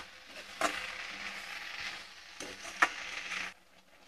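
Bilayati bathua mixture is stirred in a pan over a low gas flame, giving a soft, quiet sizzle with a couple of sharper spoon scrapes against the pan.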